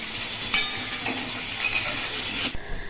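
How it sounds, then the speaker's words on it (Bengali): Potatoes set frying in a pan, giving a continuous close sizzle of oil with a few scraping and clinking touches of a utensil, cut off abruptly near the end. "তো আলুটা ভাজা বসিয়ে দিচ্ছি"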